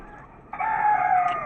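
A hen on a household rooftop, sitting down to lay eggs among other chickens, lets out one drawn-out, loud call midway through, following a quiet start.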